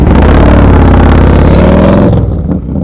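A motorcycle engine revs loudly and close by with a steady, rough roar, then cuts off sharply and falls away near the end.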